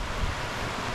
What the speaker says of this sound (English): This is the Bendigo Creek. As you can hear, it's a lot of water.